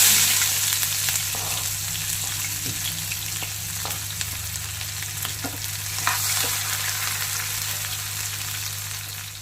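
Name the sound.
onions and green chillies frying in a pan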